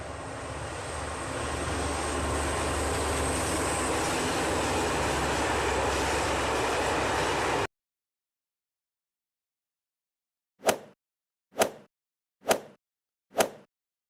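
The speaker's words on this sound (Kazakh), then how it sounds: "Я, дұрыс. Бұл поезд." A train sound effect from a children's educational cartoon about vehicles: a steady, loud, broad rumbling roar lasts about seven seconds and cuts off to silence, then four short, sharp pops follow at even intervals.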